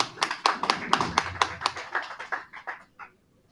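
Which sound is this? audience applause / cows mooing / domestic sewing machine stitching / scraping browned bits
audience applause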